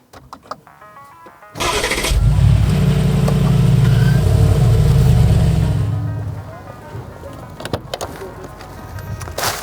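A Mercedes G63 AMG engine starts up close by, catching with a loud, deep roar that settles into a steady, heavy idle for several seconds before dropping to a lower rumble.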